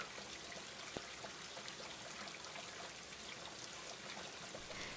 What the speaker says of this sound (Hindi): रात में फिर से तेज बारिश शुरू हो जाती है और झोपड़ी की छत से भी पानी टपकने लगता है